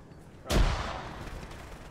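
A frag grenade blast inside a bunker in a military shooter game, one sudden heavy boom that hits hard and rolls off into a long echoing decay.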